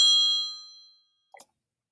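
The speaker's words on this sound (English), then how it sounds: "Phone's always ringing when I'm trying to record." A phone gives one bright electronic ding that rings out and slowly fades over about a second, then a brief faint clatter follows. The sound is heard alone in a quiet room.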